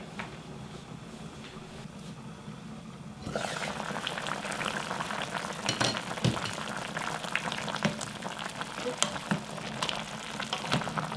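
Braised squid with radish simmers in a pot over medium heat, a soft bubbling hiss that turns louder and fuller partway through, with occasional small pops and knocks.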